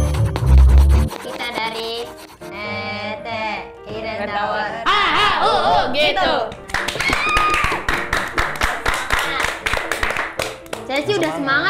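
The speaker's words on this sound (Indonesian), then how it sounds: "Tepuk tangan." A group of people clap their hands in a lively word-guessing game session, the rapid, loud claps building in the second half amid excited talking and shouting voices.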